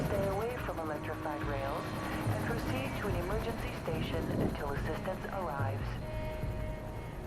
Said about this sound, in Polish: Widzimy helikopter.